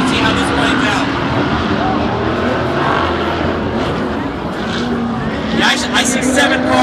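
Several Ultra4 off-road race cars climbing a rock hill rev and roar under strain, overlapping and droning, with a commentator talking over the din throughout.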